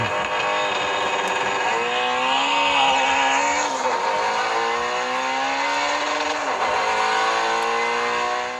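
A van and a truck race on a played video. Engines rev hard and sustained, with rising and falling pitch sweeps as they accelerate and shift gears, with a constant loud roar throughout.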